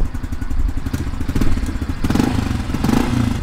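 A new four-speed dirt bike engine starts and runs loudly up close, sputtering roughly and then revving harder in uneven bursts.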